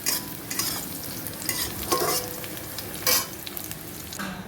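Garlic and green chili fry in oil in a kadai (wok) while a spatula stirs, giving a soft continuous sizzle broken by a few scraping strokes, fairly quiet with no voices.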